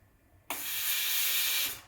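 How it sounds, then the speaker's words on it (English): Steam wand on a Breville Oracle Touch BES990 dual boiler espresso machine purging with a sudden loud, steady hiss of steam lasting over a second before cutting off, close and alone. "Before steaming my milk, I like to get rid of any water in the wand. So just give it a purge, turn it on for a second"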